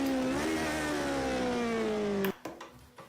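A Lotus 49c racing car engine in Project Cars 2 drones at high revs with a smooth, slowly falling pitch, then cuts off abruptly near the end, leaving a few faint clunks.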